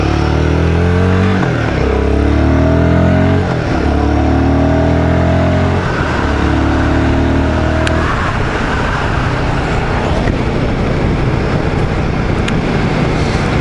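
A Royal Enfield Guerrilla 450 motorcycle in performance mode accelerating hard through several gears, engine note rising and dropping with each upshift, loud and close, then settling into a steady cruise with wind noise.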